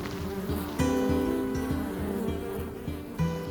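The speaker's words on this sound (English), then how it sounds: "if you listen closely, you'll hear the bees and all of that biodiversity" Bees and other insects hum and buzz continuously among the plantings of a woodland-style show garden at the RHS Chelsea Flower Show, a soft, steady drone with a few closer passes.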